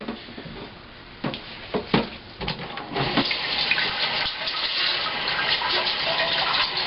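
Running tap water splashes over a Cornelius keg part being rinsed in a sink, starting with a few uneven gushes and settling into a steady close stream.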